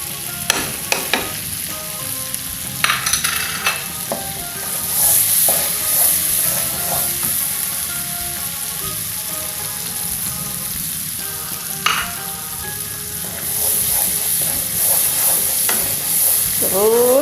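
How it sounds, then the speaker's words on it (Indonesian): Ingredients for a salted egg semur, with ground coriander, bay leaves, seasoning and salt, sizzle in a pan while a utensil stirs and scrapes with repeated sharp clinks, close and continuous with no talk. "Terus diaduk-aduk sampai mateng"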